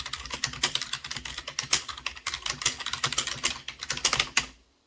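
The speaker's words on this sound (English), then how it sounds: "Let's try typing something." Rapid typing on a computer keyboard running Windows 3.1 on a Wii, with a close, steady patter of keystrokes that stops abruptly near the end.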